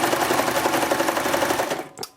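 A serger stitches along a cloth diaper, a fast rapid rattle of needle and knives running steadily for under two seconds before stopping abruptly.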